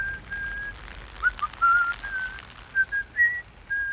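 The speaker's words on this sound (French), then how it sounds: "Il siffle la chanson préférée de Meredith pendant qu'il fait pipi." A man whistles a tune while urinating in a scene from Guardians of the Galaxy Vol. 2, short melodic phrases, fairly close, over a faint low background hum with no one speaking.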